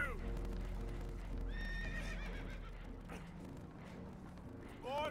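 Spooked horses neigh and whinny in several shrill calls, with hooves clip-clopping on a boat taking on water in the video game Red Dead Redemption 2, alone without talk.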